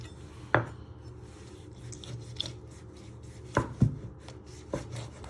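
A knife chopping vegetables for ratatouille on a board: a few sharp, separate chops spaced irregularly, with quieter kitchen handling noise between them and no talking.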